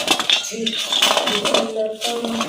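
Loose coins poured and stirred together in a vessel for the Bhogi festival, giving a busy run of metallic clinks and jingles close by, with faint voices in the background.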